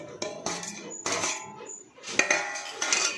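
Boiled potatoes are mixed with spices in a metal pot for bhungla bateka, making several close bursts of spoon scraping and clinking against the pot with short pauses between strokes.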